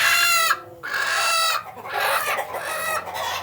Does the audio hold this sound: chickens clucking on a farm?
yes